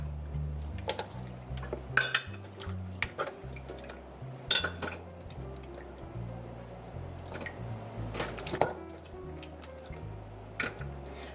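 Oxtail pieces going into a crock pot, a run of irregular wet plops, drips and clinks of meat and utensil against the pot, close and fairly quiet.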